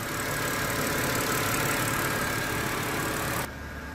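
A 2006 BMW X3 2.5si xDrive idles with its six-cylinder engine running smoothly and evenly, a loud, close, continuous hum that drops slightly in level near the end.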